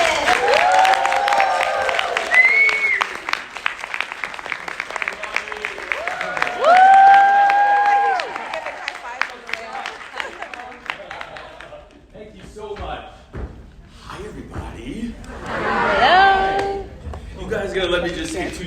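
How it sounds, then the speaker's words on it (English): Audience applause with cheering at an actors conference, the clapping mixed with whoops and voices that rise and fall, strongest early and again near the end. "Please give a big round of applause for DaJuan Johnson."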